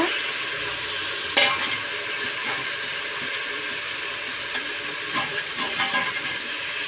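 Mint leaves stirred and sautéed in a pan with onion, tomato, ginger and garlic for tomato rice, giving a steady close sizzle with a few scraping stir strokes and no talking.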